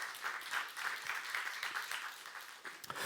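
A church youth congregation claps together during a sermon, a soft, steady patter of many hands heard at a distance and fading slightly toward the end.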